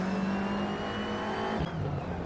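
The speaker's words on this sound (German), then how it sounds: "Jetzt hier schön innen bleiben, um früh heraus zu beschleunigen." Race car in a racing game accelerating out of a corner at Zandvoort, engine droning loud and steady with a sharp gear change near the end, then a higher engine note.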